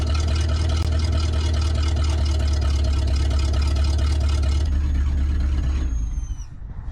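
The engine of a 1963 International Loadstar truck idles after a restart, a loud, steady, close rumble that holds evenly, then cuts off abruptly near the end and leaves a fading whine.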